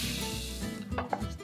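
Beef ribeye steak sears in a hot pan, a steady bright sizzle with a few clattering bumps and scrapes near the end, close and alone without talk.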